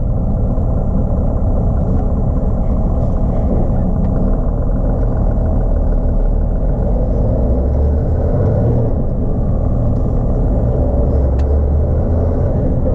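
A MAN TGN truck engine drones steadily while driving, a loud continuous low rumble with road noise and no pauses.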